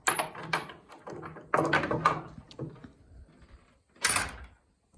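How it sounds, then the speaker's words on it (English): A homemade wooden pen door on a small farm, fitted with latches, is worked open with a few close knocks, rattles and clacks, ending in a louder scrape and clunk as it swings free. "These doors, I'm pretty proud of the doors actually. Let's see if I can get this."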